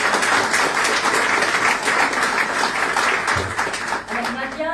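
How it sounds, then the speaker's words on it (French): Audience applause for a medium and lecturer being welcomed at a spiritual event, a dense, steady crowd clapping that fills the room and carries on at an even loudness throughout. "On l'applaudit."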